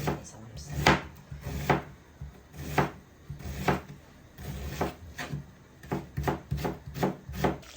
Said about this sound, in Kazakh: Майда кубиктеп тураламыз.